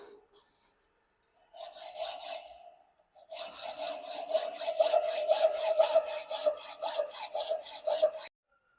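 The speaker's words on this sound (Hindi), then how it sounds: "तो ये जो एक्स्ट्रा भाग है तो इसे भी हेक्सा से काट के अलग करेंगे।" A hacksaw cuts off the extra part of a metal workpiece clamped in a bench vise: a few tentative strokes, a pause, then a long run of steady, rhythmic rasping back-and-forth strokes, close and clear.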